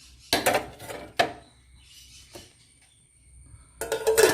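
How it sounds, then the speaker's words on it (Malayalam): A metal pot is covered with a lid while egg food for budgies is being prepared. Several sharp clanks and clatters of cookware are separated by short pauses, then a final burst of rattling. "പാത്രം എടുത്ത് മൂടി വെച്ചാണ് ഇതിന് മുകളിലേക്ക് ഈ ബ്രെഡ് വെക്കുക."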